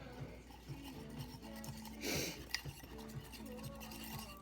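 Chocolate mug cake batter being stirred with a cocktail mixer stirrer in a mug, soft quiet scraping with light clinks against the sides, close and faint, with brief talk in the background.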